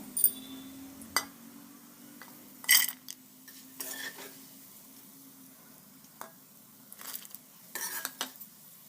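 Sparse light clinks and rattles of crisp fried bitter gourd pieces being tossed in a pan, with a faint background hum and quiet gaps between the bursts.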